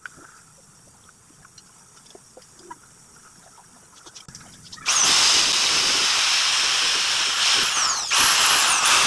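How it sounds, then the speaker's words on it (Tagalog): An electric drill fitted with a round sanding disc smooths the wooden curve of a DIY vanity mirror frame, starting abruptly after quiet handling noises and whirring loud and steady with shifting pitch as it presses the wood. "Nandagyan ako dito ng drill na liha na bilog para mas maging maganda yung curve niya."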